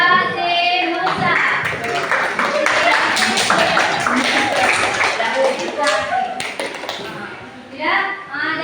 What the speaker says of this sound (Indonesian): Tepuk tangan buat tim Nusa.